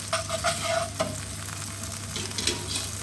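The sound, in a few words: pasta warming up in garlic and olive oil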